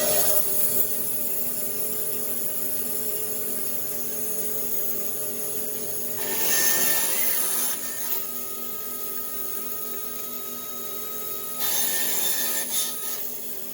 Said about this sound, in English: So this will be again loud as the bandsaw is running.